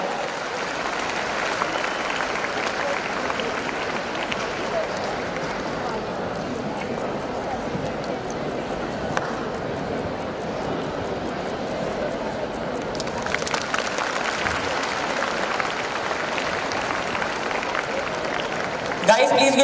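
Steady crowd applause at a career programme felicitation ceremony, a sustained dense patter of many hands clapping that swells slightly in the latter part.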